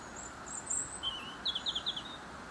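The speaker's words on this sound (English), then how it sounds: "we're also being serenaded by a robin, which is perched in a little alder tree" A robin perched in an alder tree sings thin, high, twittering phrases, soft and somewhat distant, over a steady quiet background hiss.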